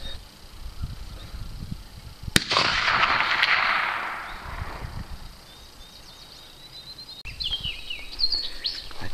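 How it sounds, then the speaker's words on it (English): A Winchester 94 .30-30 rifle firing Lee 150-grain flat-nose cast bullets at a 250-yard range fires two sharp shots several seconds apart; the first rolls away in a long echo, and birds chirp in the background. "Winchester 94-30-30, Lee 150 grain flat nose cast bullet, 250 yards."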